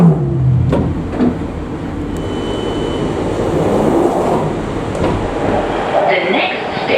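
A London Underground train rumbles loudly at close range, with doors closing and the carriage pulling away and accelerating steadily; announcements and voices run over the noise.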